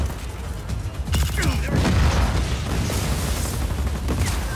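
In the video game Just Cause 4, a wind cannon is destroyed with a sudden burst of booming, crackling explosion and debris noise. Metallic creaks and rumbling follow, and game sounds continue underneath.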